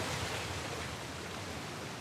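Steady, broadband rushing of a waterfall in the video game Uncharted: The Lost Legacy, a dense unbroken roar at a constant level.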